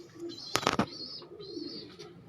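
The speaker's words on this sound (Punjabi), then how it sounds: "ਇਹ ਟੈਡੀ ਕਬੂਤਰ ਹੈ ਤੇ ਨਾਲ ਡੱਬ ਵਾਲੀ ਕਬੂਤਰੀ ਲੱਗੀ ਆ" A teddy pigeon coos softly at close range in a breeding setup, giving low murmuring notes under a brief burst of flapping or scuffling, with faint high twittering in the background.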